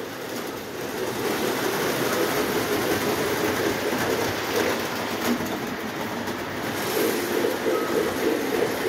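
A Lionel 665 toy steam engine runs on its track, giving a steady, continuous rolling rumble with a faint rattling texture that holds at an even level throughout, with no talking.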